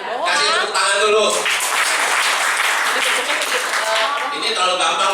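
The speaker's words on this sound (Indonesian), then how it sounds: "Oke ya, kasih tepuk tangan dulu." Audience clapping at a motivational event, loud and close. Voices talk over the applause at the start and again near the end.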